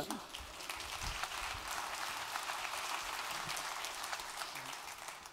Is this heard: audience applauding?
yes